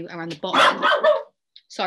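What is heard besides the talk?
dog barking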